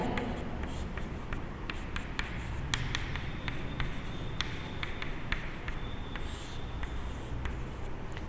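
A trigonometry calculation written out by hand, the pen ticking and scratching on paper in short strokes, close up under a steady background hiss with no talk.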